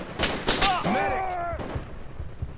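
Gunshots in the tactical shooter game Project Reality: several sharp cracks early on, then a ringing tonal sound and scattered thuds fading afterward, with voice-like sounds in the mix.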